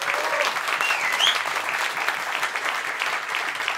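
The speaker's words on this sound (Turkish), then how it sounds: "Tekrar büyük bir alkış." A crowd applauds steadily at a guitar concert in Turkey, a dense wash of clapping hands that carries on without a break.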